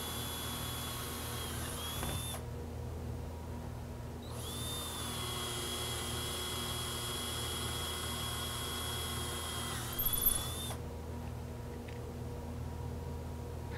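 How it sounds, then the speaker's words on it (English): A power drill with a 3/16 bit whines steadily at a close distance, drilling holes for cabinet hardware, pausing twice with brief speed changes between bursts of drilling. "Now use your drill with the 3/16 drill bit"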